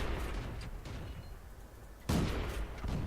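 M22 Locust tank cannon in World of Tanks fires one sharp, loud boom about two seconds in, over steady rumbling battle noise, with a few fainter distant shots around it.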